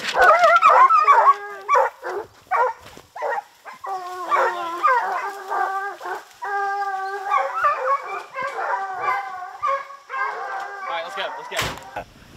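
Pack of hunting hounds baying and howling on a bear during an early-season chase, a loud, continuous chorus of long bawls and choppy barks from several dogs with a voice briefly over them.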